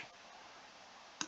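A single quick right click of a computer mouse, a faint sharp tick arriving near the end after a moment of quiet room hiss.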